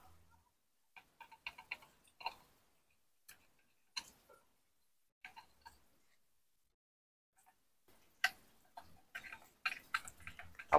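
Metal L-shaped bolts on a motorcycle cylinder head are worked loose with a wrench, producing quiet, sparse clicks and ticks separated by silences, with a denser cluster of rattling taps near the end.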